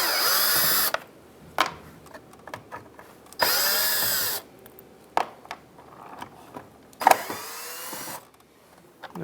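A cordless power drill backs Phillips screws out of the grille trim on a 2007-2015 Mazda CX-9, with three loud sustained whirring runs of about a second each, separated by quieter clicks and handling noises.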